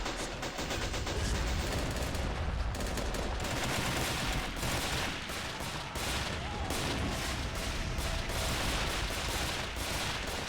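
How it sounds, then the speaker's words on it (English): Artillery and gunfire in the Army Men of War game during a large winter field battle, a dense continuous barrage of booms and shots filling the soundscape without pause. "And we're going to shoot some artillery."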